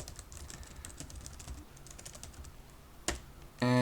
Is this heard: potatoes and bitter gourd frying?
no